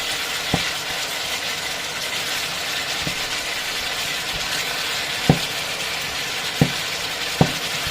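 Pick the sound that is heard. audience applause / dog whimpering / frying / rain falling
frying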